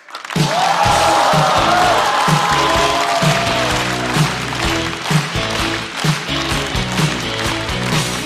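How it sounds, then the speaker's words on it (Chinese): A studio audience at a Chinese stand-up comedy show applauds and cheers loudly as a comedian is welcomed to the stage, with a steady dense roar of clapping over music that carries on throughout. "掌声欢迎邱瑞。"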